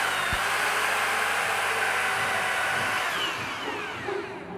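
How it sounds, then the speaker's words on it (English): A power drill boring into floor screed whines steadily at high speed, loud and close, then eases off slightly toward the end as it winds down. "now we're going to drill a quick hole here"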